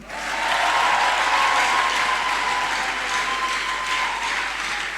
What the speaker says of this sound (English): Just clap your hands, please, for Mrs. Fumi Johnson